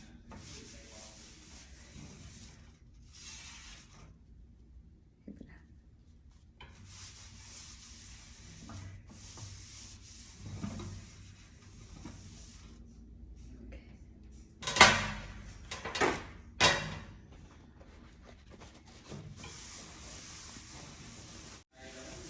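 A cleaned silver item is wiped with a cloth at home, giving soft intermittent rubbing swishes over a quiet background, with a few sharper clinks of metal near the end.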